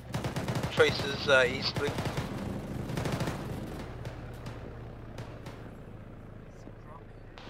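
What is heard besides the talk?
machine gun fire in a video game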